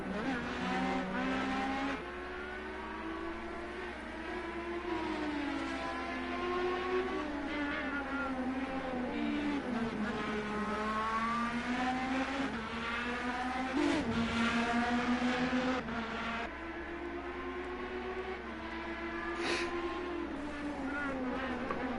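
IndyCar race cars in Project Cars 2 hold a steady, loud engine drone with rising and falling pitch as they shift through corners, one brief harder bump near the middle, continuous throughout.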